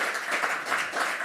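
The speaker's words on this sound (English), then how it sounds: "Can we have a massive round of applause for Lindy?" A studio audience at an on-stage talk with Lindy Cameron, CEO of the National Cyber Security Centre, gives a round of applause: thick, fairly close clapping that pulses slightly, heard alone in a brief burst.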